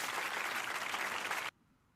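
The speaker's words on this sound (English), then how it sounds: "Let's give him an applause for that" Audience applause for a generous donor at a live-streamed talk, a dense, steady burst of clapping that fills the room for about a second and a half, then cuts off abruptly into near silence.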